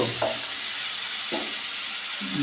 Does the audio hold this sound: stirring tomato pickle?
yes